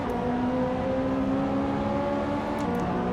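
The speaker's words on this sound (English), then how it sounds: "he's like sitting on the limiter like he's downshifting too early too" A Ferrari 458 Trofeo race car engine in the game Assetto Corsa drones at steady high revs, buzzing constantly against the rev limiter, with no talking.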